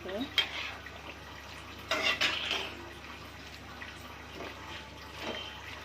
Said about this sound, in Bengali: এখন আমি একটু নেড়ে দিব এভাবে